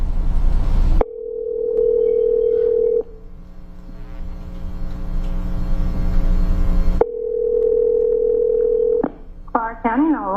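A phone line placing a 911 call gives a steady loud tone. The tone breaks off, a layered buzzing line hum follows for several seconds, and then the steady tone returns. A voice-like warble comes at the end.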